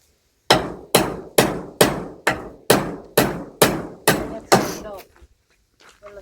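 A hammer drives a wooden post while a small hut is extended by two posts: about ten loud, sharp strikes land at a steady quick pace, each ringing off briefly, followed by faint shuffling.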